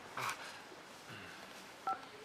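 A telephone number is dialed, a few short, separate tones over a quiet room with faint background noise.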